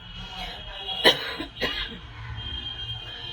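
Two sharp coughs from a breathless person close to the microphone, about half a second apart, over a quiet indoor background.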